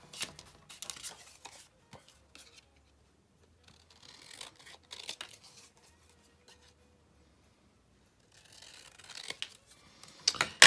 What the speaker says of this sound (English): I'm just gonna hand cut a mint rectangle.